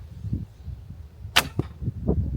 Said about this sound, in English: It has this little twang at the end.